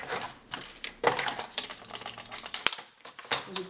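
Paper is cut for a scrapbooking album, heard as scattered sharp snips and clicks with brief rustles in between, close and irregular, one crisp snap standing out.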